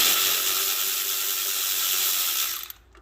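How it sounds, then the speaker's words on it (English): Small ratchet with a 9/16 socket loosening a fuel line on a Ford 851 Powermaster tractor, a rapid continuous clicking of the pawl held close and loud for nearly three seconds before stopping abruptly. "So I have my 9/16 on my little ratchet here"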